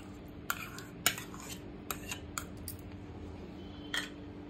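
A spoon mixes yogurt and salt into chicken in a metal bowl, giving faint, sparse clinks and scrapes, several sharp taps spaced irregularly against a quiet background.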